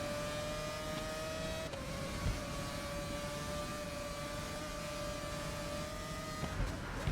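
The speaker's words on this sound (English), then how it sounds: "Again, we're just taking our time, trying to drive the car easy." Formula One car engine from the GRID Legends racing game during a snow race, a steady droning whine held at an even pitch with a brief gear-shift dip, continuous and fairly faint.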